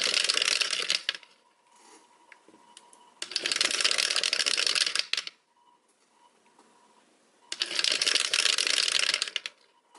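Dice rattle and clatter in three bursts, each about two seconds long, with near-silent pauses between them, crisp and close.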